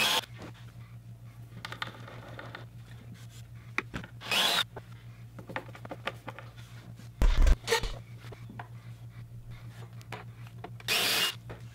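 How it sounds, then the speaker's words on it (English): Power drill with a self-centering hinge bit boring hinge holes in a wooden whiskey cabinet, several short bursts of drilling separated by pauses over a steady low hum, fairly close. "I'm using a self-centering hinge bit that drills a perfect hole every time."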